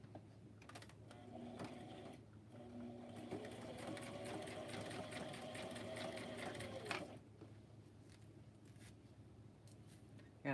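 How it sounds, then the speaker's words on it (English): Sewing machine stitching down the side of a fabric book, a quiet continuous mechanical whir lasting several seconds, then stopping, followed by faint handling clicks and rustles of the fabric. "I'll sew down the side like I did the rest of them."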